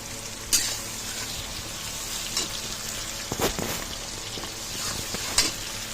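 Chopped onions sizzle steadily in a hot pan while cooking chicken curry, a constant crackling hiss with occasional sharp clinks and scrapes of a spatula stirring.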